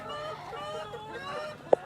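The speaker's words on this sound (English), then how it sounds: "You see them all going crazy in there. We've got a few ducks in here as well." Chickens and ducks are in a chicken coop. Faint overlapping clucks and honking calls sound from inside, with one sharper louder squawk near the end.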